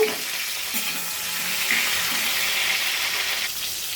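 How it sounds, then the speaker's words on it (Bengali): Tomato pieces frying in hot oil give a steady, close sizzle with a soft continuous hiss throughout, occasional faint stirring scrapes, and no talking. "টমেটোটাকে দিয়ে দেবো তেলের ওপর তেল হয়ে গেছে একটু টমেটোটাকে ভেজে নেবো"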